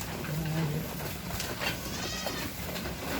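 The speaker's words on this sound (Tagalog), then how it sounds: "Ayan mga kambing natin." Goats bleat nearby, one clear drawn-out bleat early on, with a person talking over a noisy outdoor background.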